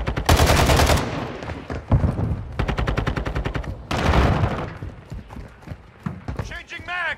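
Bursts of automatic gunfire in Call of Duty, a loud rapid volley at the start and another in the middle, with clipped radio-style voices calling out between the shots.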